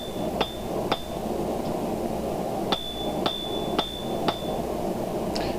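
Hammer blows on quarter-inch mild steel flat being shaped into a rosette, about seven sharp ringing strikes in an irregular rhythm over a steady workshop hum, fairly close.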